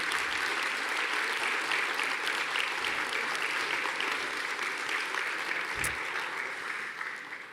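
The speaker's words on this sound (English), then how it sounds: "Please give everyone a round of applause." An audience at a college convocation gives a sustained round of applause for long-serving employees, a dense, steady clapping that fades slightly toward the end.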